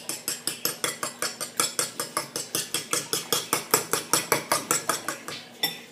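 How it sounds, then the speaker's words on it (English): A fork whisks eggs in a bowl for French toast, a fast, steady run of bright clinking strokes, about five per second, close and alone. "I'm just going to take our fork and whisk it up"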